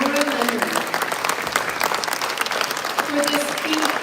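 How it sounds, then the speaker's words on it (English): Audience applause after a talk, steady dense clapping filling the room throughout, with voices faintly audible over it. "give another huge round of applause to David Twinkle and Nora Leonard"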